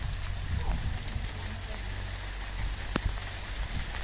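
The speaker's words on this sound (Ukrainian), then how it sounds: "Капає дощ. Шумить, но не сильно." Steady light rain patters on a surface nearby, a soft continuous hiss with occasional sharper drips.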